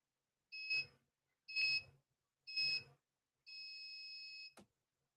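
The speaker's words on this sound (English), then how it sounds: "Start my timer. Teet, teet." A kitchen-style timer on a live show sounds three short, evenly spaced electronic beeps followed by one longer sustained beep, loud and close with nothing else around it.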